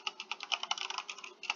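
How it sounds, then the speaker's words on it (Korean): Rapid computer keyboard typing during a Python programming lecture, a close, dry run of uneven clicks and keystrokes with a brief pause near the end, heard alone without talking. "그리고 타이핑 안 되네."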